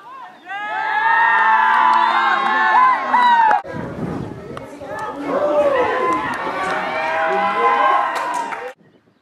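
A crowd at a Pacific Games cricket match cheers and whoops loudly for big hitting, with shouting voices rising and falling over about nine seconds before cutting off.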